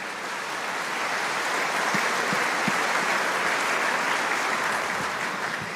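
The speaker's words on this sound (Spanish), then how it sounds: "Ahora sí, un aplauso para Jesús." Steady applause from a church congregation at a sermon, dense and sustained throughout with no talk over it.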